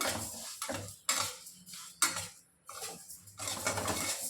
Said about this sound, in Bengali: এই মুগ ডালটা আমি দিয়ে দেবো তেল ভেজে নেব মুগ ডালটা